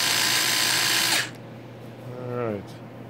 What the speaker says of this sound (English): Here's the Milkita drill.